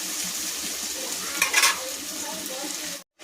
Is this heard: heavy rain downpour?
no